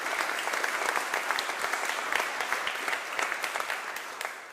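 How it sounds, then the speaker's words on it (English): An arena audience applauds at a Baltimore event, with dense, sustained clapping spread evenly across the whole stretch. No voices stand out above it. "Let's give them a round of applause again."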